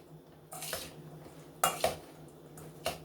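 Turkey salad ingredients tossed dry in a bowl, a few sharp clinks and scrapes of a utensil against the dish, spaced apart over a quiet kitchen background.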